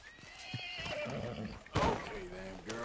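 A horse whinnies loudly in the video game Red Dead Redemption 2, with hoof clip-clops and other game sounds around it, while a person talks.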